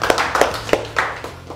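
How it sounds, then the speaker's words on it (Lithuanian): A few people clap in a sparse, uneven rhythm, around six distinct close claps spread over a moment, in a reality-show villa scene after a participant's score is announced. "Tai jo, čia tikrai aplodismentai."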